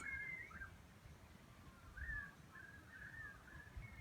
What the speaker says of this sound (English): You can hear the birds all calling out first thing in the morning